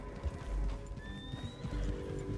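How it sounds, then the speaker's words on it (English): Wild horses in Red Dead Redemption 2 thud along in galloping hoofbeats and let out a high whinny partway through, heard at moderate distance and fairly quiet over outdoor game ambience. "Those wild horses."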